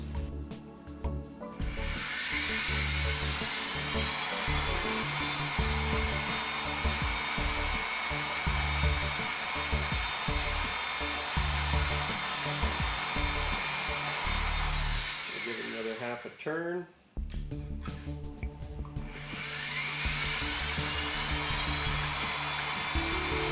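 Bead roller rolling a sheet metal kick plate, a loud steady motor drone with grinding metal texture that cuts out briefly near the end before resuming, and a voice speaking over it.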